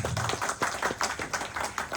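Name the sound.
audience clapping for a mentor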